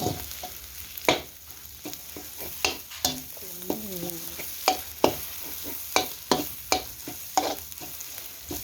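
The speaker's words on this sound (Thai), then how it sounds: "น้ำพริกปลาทูเอาลงมาผัด" Mackerel chili paste (nam prik pla tu) stir-fried in a pan, with a soft constant sizzle broken by regular sharp scrapes and taps of the spatula, about one every half second, heard close and alone.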